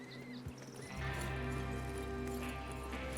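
Horse hooves clip-clop with occasional whinnies in Red Dead Redemption 2 gameplay, over a steady, loud musical backdrop, with a faint voice briefly at the start.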